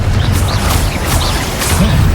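Spells from the game Hogwarts Legacy go off in a dense run of deep booming blasts with crackling bursts layered on top, loud and continuous with no pause between impacts and no talking.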